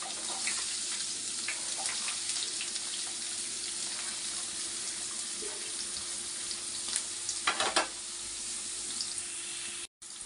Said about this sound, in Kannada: ಇವಾಗ ಇದನ್ನು ನಾವು ಸ್ವಲ್ಪ ಫ್ರೈ ಆಗೋಕ್ಕೆ ಬಿಡಬೇಕು.